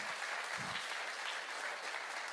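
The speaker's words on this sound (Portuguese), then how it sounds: "É para aplaudir mesmo." A church congregation applauds during a sermon, a dense, even wash of clapping from many hands that holds steady throughout, with no voices.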